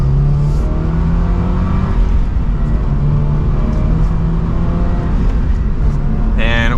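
A 2023 Toyota GR86 with a manual gearbox accelerates hard from second gear, its engine note loud and steady from inside the cabin, rising briefly near the end, no voices.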